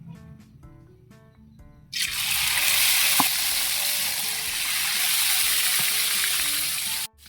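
Salmon drops into a hot pan and bursts into a loud, dense sizzle that holds steady for several seconds, after a quieter opening, then cuts off sharply near the end.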